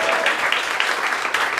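Steady, dense audience applause from a Quebec comedy stage show crowd, an even wash of clapping throughout with no talking on top.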